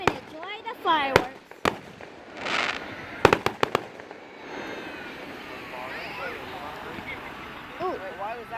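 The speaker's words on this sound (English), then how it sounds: "Come and enjoy the fireworks." Fireworks burst at a 2019 display in Mexico, Missouri, sharp cracks and booms coming in scattered clusters, some close and loud, mixed with whistling trails while people talk and exclaim throughout.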